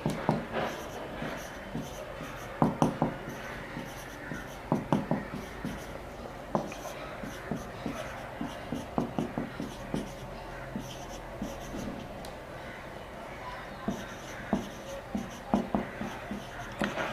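Chalk writing on a classroom board during an organic chemistry lecture, a long stretch of repeated sharp taps and scratchy strokes in uneven bursts, close and fairly clear, with faint speech in the background.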